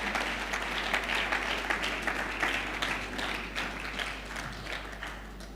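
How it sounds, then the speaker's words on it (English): A crowd at a foundation's 20th anniversary celebration breaks into steady applause, many hands clapping together at moderate distance for several seconds and slowly thinning, with a low electrical hum beneath. "Let's have another round of applause"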